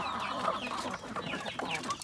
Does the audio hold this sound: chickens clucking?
yes